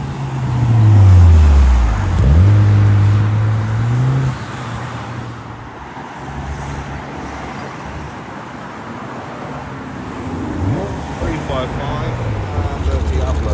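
An Evo supercar at a supercar event passes close by. Its engine note sweeps up and down loudly in the first few seconds, then fades into road and crowd noise as spectators talk.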